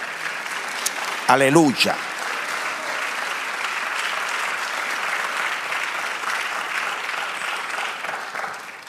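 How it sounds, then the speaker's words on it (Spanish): Congregation applauding in a church service, a steady wash of clapping from many hands that carries on through the clip, with a voice calling out briefly near the start. "Denle un aplauso al Señor."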